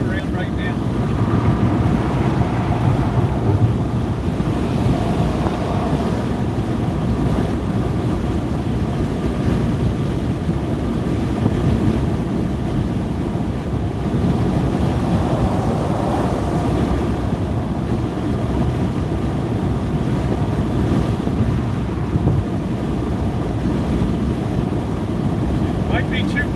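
Strong wind blows steadily outdoors, a continuous rushing roar buffeting the microphone throughout, with a voice occasionally underneath.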